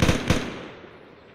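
RPG rockets fired in a video game: two sharp, booming blasts in quick succession, close and loud, trailing into a fading rumble.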